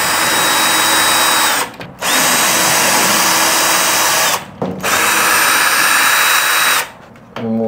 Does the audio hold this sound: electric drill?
yes